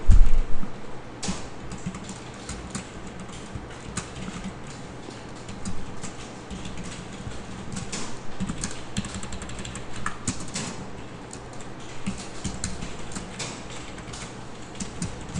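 Computer keyboard keys clicked steadily while code is typed for a jQuery lesson, a continuous run of quick close taps with occasional louder strokes and no talking.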